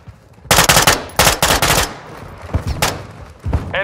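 Rapid automatic gunfire in the game Call of Duty Modern Warfare II, loud close bursts of several shots each, broken by short pauses, with a few single shots near the end.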